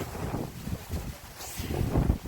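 Strong wind gusts roar across a microphone at an outdoor viewpoint in Andalusia, a steady broadband rush swelling and easing for a couple of seconds with no voices.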